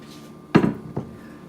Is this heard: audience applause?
no